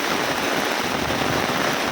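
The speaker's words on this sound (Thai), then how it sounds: "ฝนตกหนักมาก" Heavy rain pours steadily on a mountain footpath, with water running along the trail, forming a dense, constant hiss that fills the whole moment with no one talking.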